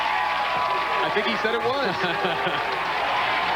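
Crowd at a 1998 PBA Brunswick World Tournament of Champions bowling event cheers and applauds as a bowler rouses them, a steady wash of noise running under a commentator's voice throughout.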